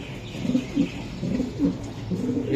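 Soft, low cooing from a breeding pair of Giribaz high-flying racing pigeons repeats in a steady rhythmic pattern, several close calls in a row with no voices.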